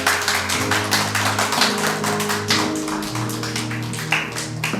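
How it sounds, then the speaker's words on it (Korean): A church gathering breaks into hand clapping, a crisp crowd of overlapping claps that goes on steadily and fairly close, with a low sustained tone running underneath. "박수 치면 된다. 박수."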